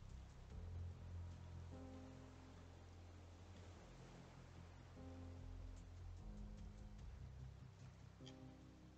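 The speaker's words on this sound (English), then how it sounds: "It's only ever raining, huh?" Rain in the survival game Raft, a soft, steady patter with low rumbling tones and faint music-like hums beneath, heard quietly and without talk.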